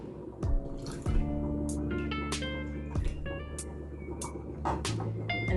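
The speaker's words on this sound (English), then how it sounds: "I'm gonna add some water." Water is poured into a bowl of soya sauce and brown sugar, a liquid pour with gurgling drips and small splashes, steady and close, punctuated by a few sharp clinks.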